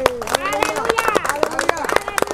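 A church congregation claps in quick, uneven bursts, with the hand claps close and loud while a voice keeps speaking over them.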